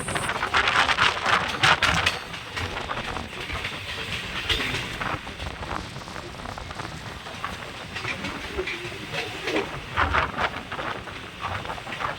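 A loud train rushes past near Krishnanagar, a dense roaring rumble with clattering wheels and hiss that starts strongest and holds steady close by throughout, with no voices over it.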